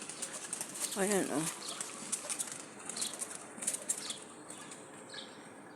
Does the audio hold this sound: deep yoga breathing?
no